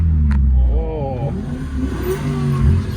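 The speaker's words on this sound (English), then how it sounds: "Hear that Mustang? Yeah. Little Eco Boost." Ford Mustang EcoBoost engine revving nearby, a droning low engine note that rises in pitch, with voices talking over it.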